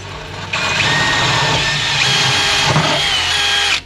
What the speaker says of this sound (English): Gonna go ahead and drill the rest of these.